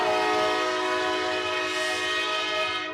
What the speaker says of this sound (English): So it's very busy with many trains coming through every single day.